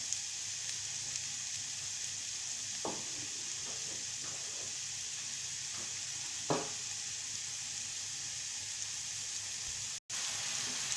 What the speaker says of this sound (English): just fry a little bit the mushroom